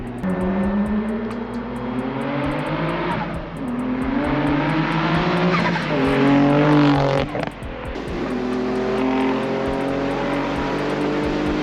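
A 650 WHP Nissan 300ZX with straight pipes roars loudly from inside the cabin, revving up and down through several gear changes with a harsh, rumbling exhaust tone.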